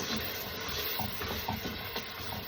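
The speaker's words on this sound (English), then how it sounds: "Now I'm going to stir that up." Pepper sauce for a Portuguese fava bean stew with chouriço is stirred in a pot over low to medium heat, giving a steady scraping swish over a soft continuous sizzle with no talking.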